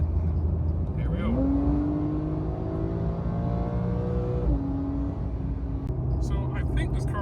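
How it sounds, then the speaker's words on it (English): A Porsche 911 Carrera S engine revs up close, its tone climbing smoothly and holding, then dropping briefly before rising again, with a voice speaking underneath. "the beautiful noise, the harmonic noise of a Porsche engine"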